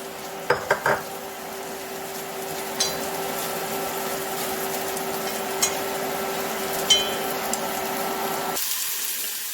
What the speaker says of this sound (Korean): 준비했던 버섯을 넣어서 또 같이 볶아주세요